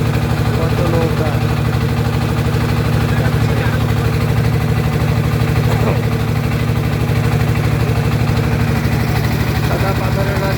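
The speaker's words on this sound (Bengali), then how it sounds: "স্পিড বোটের আওয়াজ দেখতে পাচ্ছেন" A speedboat engine drones loud and steady throughout, a constant close motor hum with rushing water noise on the way to Bholaganj in Sylhet, with faint voices mixed underneath.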